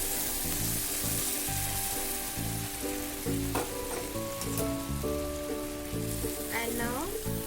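Milk poured slowly into a hot pan of mango sheera, giving a steady broad sizzle with occasional stirring scrapes, loud and continuous, while background music plays throughout.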